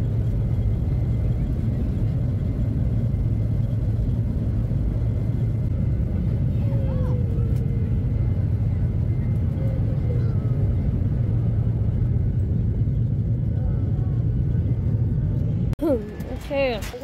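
A steady, loud low rumble and whir fills the cabin of a moving aircraft, continuous throughout with a faint higher hum, and a brief sharp change near the end.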